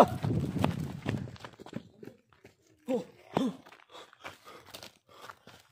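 Horse hooves clip-clop in scattered, uneven steps at close range, with a rougher burst of noise at the start and quiet gaps between the footfalls.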